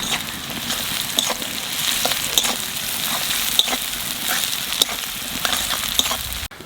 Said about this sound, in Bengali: পেঁয়াজটা একটু ভাজিয়ে নিছি